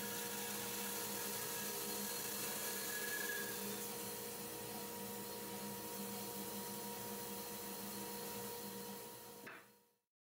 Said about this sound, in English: I do got the dust collector on